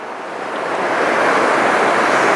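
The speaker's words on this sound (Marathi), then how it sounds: "इथे एक छोटा धबधबा आहे" Small waterfall on Raireshwar plateau, a dense steady roar of falling water that swells slightly at first and then holds loud and close.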